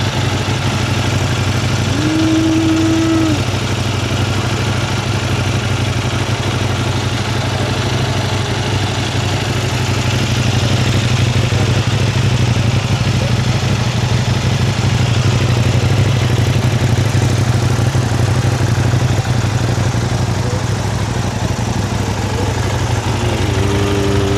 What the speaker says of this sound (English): Little cold start on the NK800.